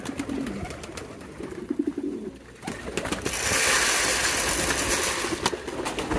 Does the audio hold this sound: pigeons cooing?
yes